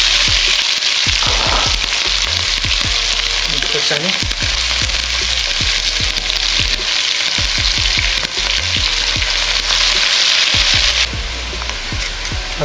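Fenugreek seeds, sliced garlic, chopped onion and chili hit smoking-hot oil for Nepali khichadi, giving a loud, dense, steady sizzle with repeated scraping stirs. The frying quiets slightly near the end, and a brief voice speaks once.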